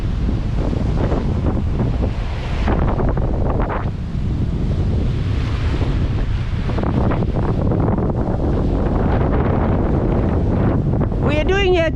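Strong, steady wind above 25 knots roars across the microphone aboard an offshore sailboat under a double-reefed main on a passage from Brazil to the Caribbean, with waves and water rushing underneath throughout.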